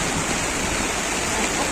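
Heavy rain pours in a continuous dense hiss, loud and even throughout, with no pauses or voices.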